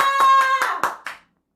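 Short burst of an audience clapping during a church service, a few distinct claps over sustained tonal sound, then silence.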